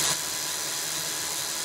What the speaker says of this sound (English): A drilling machine! Loud construction noise like this can cause headaches